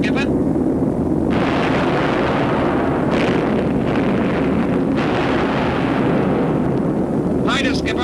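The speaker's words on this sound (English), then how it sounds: "Main force bombing has just started, Skipper." Bombs exploding during a World War II bombing raid, heavy continuous rumbling blasts and booming under the steady drone of aircraft engines, with crew voices speaking over the din.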